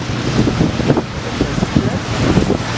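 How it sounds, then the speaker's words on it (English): Wind buffets the microphone in gusty, rumbling bursts, with muffled voices faintly beneath. "it's windy, right?"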